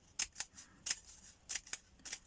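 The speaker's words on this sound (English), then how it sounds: "I'm going to use my scissors, and I'm not going to cut to the end." Sharp scissors snip a fringe into craft paper without cutting through to the edge: about seven crisp, close-up snips in an uneven rhythm, quiet and alone.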